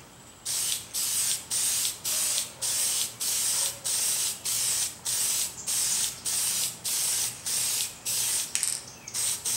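Close, loud 1260 dull coat aerosol spray hissing over trucks and couplers in quick regular bursts, one after another with short gaps, continuing throughout.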